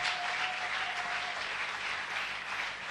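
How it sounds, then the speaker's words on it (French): A church congregation applauds steadily throughout, a dense, continuous wash of clapping with no voices standing out. "Applaudissez pour le Seigneur."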